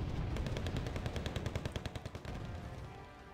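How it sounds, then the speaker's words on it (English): Rapid automatic rifle fire from a Wargame Red Dragon battle, a fast regular stream of sharp shots with distant crackling behind, loud and unbroken for about three seconds before fading into rumble. "Canadian rifles providing fire support."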